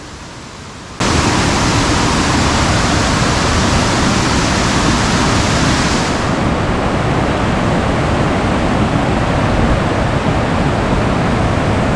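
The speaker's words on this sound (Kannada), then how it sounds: "ಫೈನಲಿ ನಾವು ತಲುಪಬೇಕಾಗಿದ್ದ ಅದ್ಭುತವಾದ ಜಲಪಾತದ ದೃಶ್ಯ ಇದೆ" Abbi Falls in Coorg, a loud, continuous roar of falling water that rushes in after a brief quieter moment and holds steady, with no voices.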